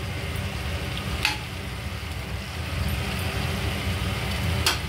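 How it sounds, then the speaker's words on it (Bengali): Paneer going into a pan of cooked masala, a steady close sizzle with a low frying rumble and a few brief clinks of stirring, with no voices. "এবার আমি পনিরগুলো এতে দিয়ে দেবো।"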